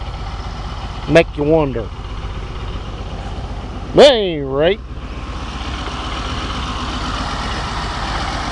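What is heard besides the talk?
Oliver 1550 tractor engine running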